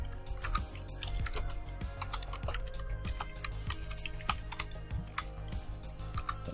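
Rapid, uneven keystrokes on a computer keyboard while entering commands to configure Graphite on Ubuntu 18.04, with close, crisp clicks running throughout over a low steady hum.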